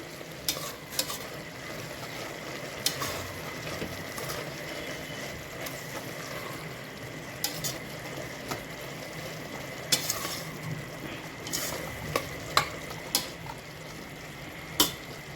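Masala being stirred into vegetable pulao in a pan produces a continuous low sizzle under repeated scraping strokes and clacks of a spoon against the pan, irregularly spaced and close.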